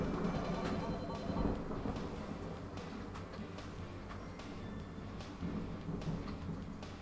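A thunderstorm rumbles on in steady rain, with low thunder rolling under a constant wash of falling water, sounding fairly distant and subdued and never pausing.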